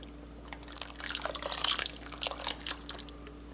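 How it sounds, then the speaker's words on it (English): Whole milk poured into a simmering Bolognese sauce, a soft liquid trickle and drip running steadily for a few seconds at low level, with no talking. "So I got some whole milk that I'm just gonna put in"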